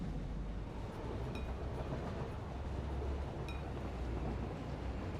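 A train rolls along in the video game Satisfactory, a steady loud rumbling rush with faint rhythmic rail clacks and a couple of light metallic ticks, continuous and close, with no talk.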